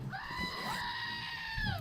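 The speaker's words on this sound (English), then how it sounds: "That's our screaming goat." Screaming goat sound effect: a single loud, human-like bleating scream under two seconds long, rising and then sliding down in pitch, heard on its own without talk.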